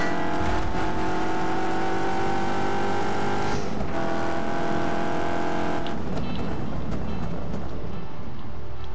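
Car driving in Just Cause 3, with a steady, loud engine drone and rushing road and wind noise that shift in pitch partway through as the car changes speed.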